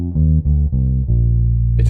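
A deep jazz bass plays a short descending fifth-pattern line of four notes, each one clear and sustained, ending with a faint higher sound.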